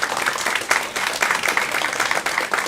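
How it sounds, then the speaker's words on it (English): Audience applause at a conference, a loud dense wash of many hands clapping with slight surges in intensity, steady throughout and free of speech. "I'd ask you to give me a round of applause and thank you for it"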